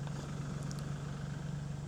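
A tractor fitted with a scraper blade digs a trench for a gutter downspout pipe, its engine holding a steady low drone that runs unbroken throughout, close by and fairly quiet.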